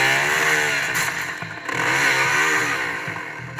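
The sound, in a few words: motorcycle engine revving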